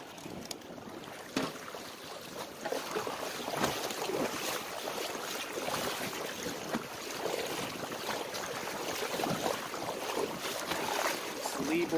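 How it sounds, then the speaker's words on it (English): A small sailboat with a lee board cuts through the water in a good breeze, producing continuous splashing and rushing water mixed with gusty wind buffeting the microphone, loud and close throughout. "So we have a good wind, and we're moving along fairly nicely here."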